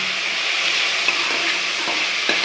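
Ginger garlic paste sautés in a pan with a continuous close hiss, broken by a few soft scraping stirs and small clicks, with no voices.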